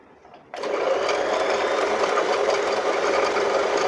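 An Usha Marvela automatic sewing machine's motor starts abruptly and runs steadily, winding thread onto the bobbin with a continuous close whir and no talk.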